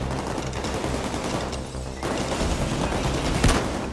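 Gunfire rattles through a Payday 2 heist, with dense rapid shots and crashing impacts forming a continuous loud barrage that briefly dips before resuming, with a sharp louder burst near the end and no voices.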